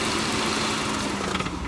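A car engine idles steadily at close range during an automated 6, 8 and 12 V battery system test, producing a loud, continuous low rumble with no speech.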